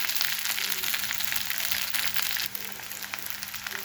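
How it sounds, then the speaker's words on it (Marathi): Leftover cooked rice sautéing in a pan, a faint steady sizzle with light crackles and soft stirring rustles, close but quiet, with no voices. "हे छान असं आपल्याला परतून घ्यायचं आहे"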